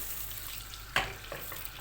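Butter melts and sizzles in a pan, a soft steady frying hiss with one sharp crackling pop partway through and a few smaller spatters after.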